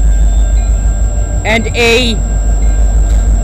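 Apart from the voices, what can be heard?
freight train cars passing on the Dundas Sub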